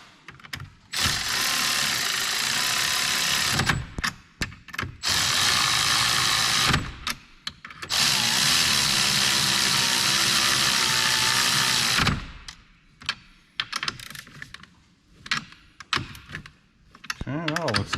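Ratchet snugging down the battery hold-down bolts on a 2014-2020 Yukon, Tahoe or Escalade, long bursts of rapid fine clicking separated by short pauses and quieter handling noises, fairly close and loud.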